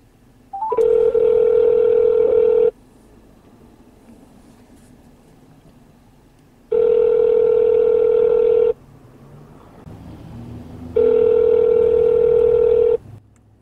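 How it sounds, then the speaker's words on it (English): Car hands-free phone system plays a short rising dial chime, then three long, loud, steady ringing tones separated by quieter gaps with faint road noise beneath. "I am calling Mama on the mobile phone."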